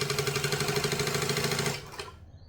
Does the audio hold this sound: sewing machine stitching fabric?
yes